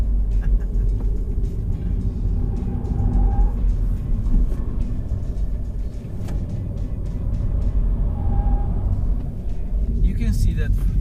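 A 2020 MINI Cooper S Electric compact car of nearly 1.4 tons drives on winter tires, giving a steady low road and tire rumble throughout while a person talks over it continuously.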